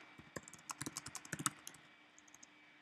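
Keys clatter on a computer keyboard as a question is typed, a quick irregular run of crisp clicks for about a second and a half, then a few scattered taps trailing off into quiet room tone.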